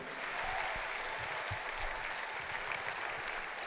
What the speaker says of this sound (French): on peut l'applaudir si vous voulez bien